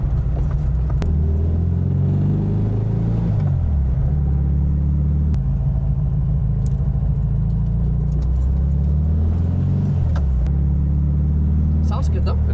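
A 1968 VW Fastback's engine runs steadily while the car drives, a low continuous rumble with small shifts in pitch as it goes along. Occasional light rattles sound over it, and there is no talk.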